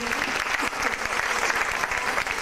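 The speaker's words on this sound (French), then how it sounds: "On peut l'applaudir très fort, Catherine." Loud, dense audience applause fills the room steadily and evenly from start to finish, a continuous crowd of hands clapping with no break.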